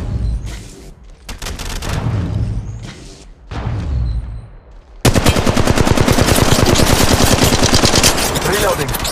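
Rapid automatic gunfire in the mobile battle royale game Apex Legends Mobile, with a few scattered bursts and shots at first, then loud, continuous machine-gun fire close by with a dense, steady rhythm.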